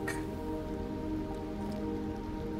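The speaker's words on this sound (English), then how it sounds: "Oh, it's raining." Rain falling in the survival game Aloft, a steady hiss of drops pattering on surfaces, even and continuous throughout, with a brief brighter splash at the very start and no talking.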